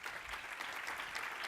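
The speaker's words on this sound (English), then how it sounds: "Big round of applause for Kathy." A keynote audience at a tech conference applauds steadily, dense clapping from a sizable crowd at moderate distance, faint and sustained throughout.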